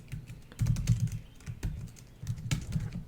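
Code is typed on a computer keyboard in steady, close bursts of rapid clicking keystrokes with brief pauses between runs, and no voices.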